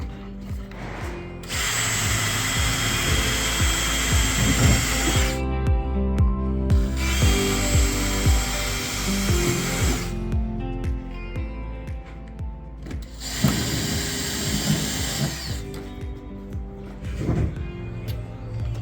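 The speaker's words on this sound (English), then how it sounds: "just drill through them" A power drill whines continuously and loudly while drilling through a rear door panel of a Ford Transit van, cutting out briefly twice before resuming, with faint clicks and rattles underneath.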